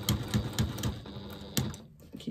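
A sewing machine runs in short bursts of rapid needle clatter as it makes a few back stitches at the start of a quarter-inch seam, with brief pauses between runs, close and fairly quiet.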